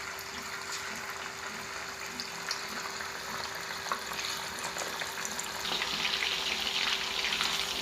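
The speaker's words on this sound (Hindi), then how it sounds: "अभी इसको हम चिकन को फ्राई करेंगे।" Chicken fries in hot oil in a kadai, a constant close sizzle that grows louder and more crackly toward the end, with no talk.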